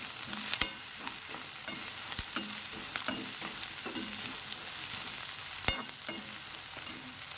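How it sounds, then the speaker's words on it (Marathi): Chopped ginger and garlic fry with onion in a pan for masala egg bhurji, a steady soft sizzle broken by sharp scraping taps of a spatula stirring, close and without talk. "अद्रक लसूण ते टाकून देऊ त्यालाही थोडंसं फ्राय होऊ देऊ"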